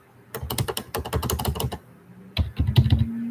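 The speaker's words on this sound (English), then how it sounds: "This is keyboard sounds. The sound of keyboards. Keyboard keys." Fingers type on computer keyboard keys up close in a quiet room, producing dense bursts of clicky keystrokes in two runs separated by a short pause, with no talking.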